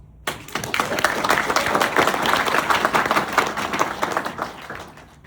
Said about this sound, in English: Give yourself, not me, yourself, a round of applause.